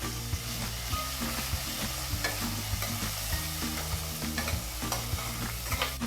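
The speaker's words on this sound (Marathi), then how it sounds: "इथे मी क्रश केलेली हिरवी मिरची टाकलेली आहे ते आता हलवून घ्यायची" Crushed green chilli stirred as it fries in a pan, with a steady sizzle and repeated scraping strokes of the spoon running throughout.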